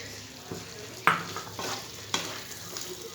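Onion and capsicum pieces fry on a high flame for soya chilli, a steady sizzle broken by a few sharp scraping stirs of the spatula against the pan, close and moderately loud with no voices.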